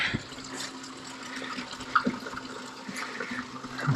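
Water rushes steadily in and out around a beaver trap set, a continuous gurgling flow heard close by and alone, with a few small splashes breaking the surface.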